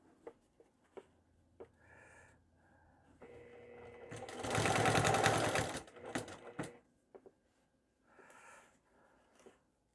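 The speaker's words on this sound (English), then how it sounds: "sew, do some back stitching, forward stitching" A sewing machine runs in a fast, rattling burst of back and forward stitching for a couple of seconds while sewing a zippered pouch, amid quieter clicks and handling noises before and after.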